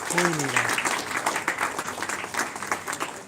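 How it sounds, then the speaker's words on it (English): An audience at an Indian film festival award ceremony claps for the winners, dense and sustained, with a voice heard briefly at the start. "Please give the round of applause to the both the winners."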